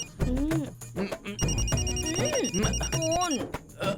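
A telephone bell rings in repeated bursts, steady and clear, while someone talks loudly over it with cartoonish voices and music underneath.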